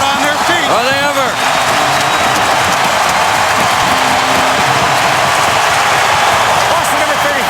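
A loud arena crowd at an NHL game between the Boston Bruins and Detroit Red Wings roars and claps continuously on its feet, with play-by-play commentators talking over the din.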